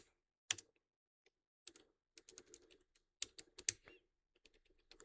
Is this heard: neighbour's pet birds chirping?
no